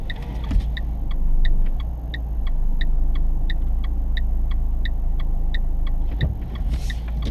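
A driving-school car eases slowly out of a parking space between two vehicles, its low engine rumble steady under the regular, crisp ticking of the turn indicator inside the cabin.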